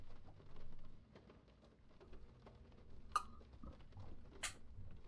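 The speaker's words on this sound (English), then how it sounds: "I love those rain pattering sounds." Light rain pattering steadily in the stealth game Thief: The Black Parade, a soft, faint ambient patter with a couple of brief sharper clicks partway through.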